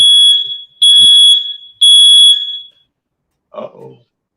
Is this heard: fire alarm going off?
yes